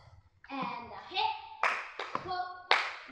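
Sharp hand claps land at intervals in a swing dance routine lesson at Camp Hollywood, set between an instructor's spoken and sung counting, with several crisp, close claps cutting through the voice.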